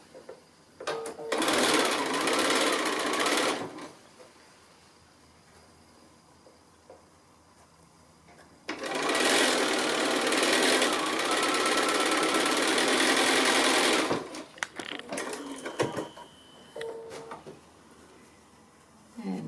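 A sewing machine stitching small quilt pieces for a mini mystery quilt, running in two loud, steady whirring bursts separated by quiet pauses, with brief stops and restarts near the end.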